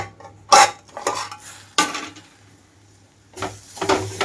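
Metal clanks and scrapes of a lid lifted off a cooking pot, a few sharp knocks spaced out over a quiet low hum.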